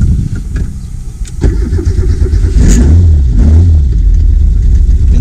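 Fuel-injected Fiat Uno car engine cranking and catching, then settling into a loud, steady idle with a brief rev close by; no talking.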